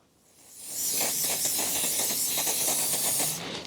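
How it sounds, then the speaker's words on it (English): GT85 aerosol spray squirted onto a rusty, dirty bolt and nut: a loud, close, steady hiss of about three seconds that swells in quickly and cuts off sharply. "give the bolt and the nut a quick squirt of GT85"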